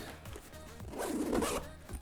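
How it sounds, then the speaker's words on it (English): Zipper pulled along the compartments of a Peak Design 30L Everyday Backpack, a close continuous rasping run of about a second that peaks midway, with light rustling before and after. "So I'm gonna zip these back up real quick."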